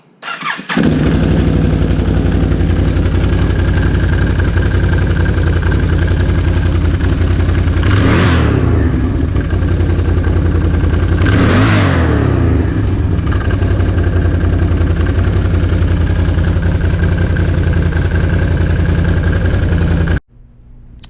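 A 2007 Can-Am Renegade 800 ATV engine, just back together after a drive belt replacement and clutch spring install, runs loud and steady close by for about twenty seconds, with two brief revs near the middle before it cuts off.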